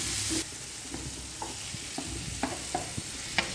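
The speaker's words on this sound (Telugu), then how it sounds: "ఇప్పుడు టమాటాలు వేస్తాను" Tomatoes dropped into a hot pan sizzle steadily in the close foreground while a green banana curry cooks, with occasional soft stirring knocks under the constant hiss.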